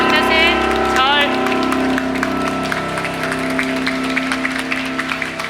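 An audience at a Sewol ferry ninth-anniversary memorial in Ulsan claps after a theme performance, the dense applause running on under music that fades out early.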